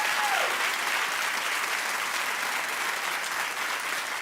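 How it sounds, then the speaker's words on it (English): Studio audience at a daytime TV talk show applauding loudly and steadily, a dense wash of many hands clapping throughout with no break. "Keep clapping."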